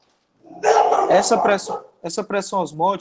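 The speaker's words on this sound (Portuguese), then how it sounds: "O cachorro latindo." A dog barks loudly and close by in a quick run of yelping barks, pauses briefly, then lets out another rapid series.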